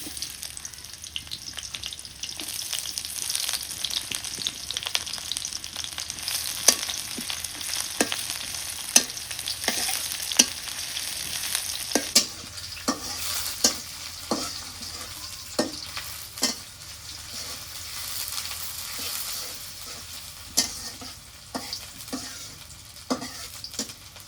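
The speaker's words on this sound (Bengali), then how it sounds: "তেজপাতা দিলাম, পেঁয়াজ কুচি দিই।" Bay leaf and chopped onion fry in a pan, giving a steady close sizzle while a spoon repeatedly scrapes and clacks against the metal in irregular strokes throughout, with no voices.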